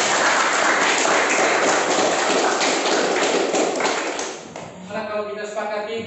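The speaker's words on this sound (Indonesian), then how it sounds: "kita beri tepuk tangan untuk kita semua" A classroom full of students applauding, dense, steady clapping that stays loud for about four seconds and then fades, followed by speech.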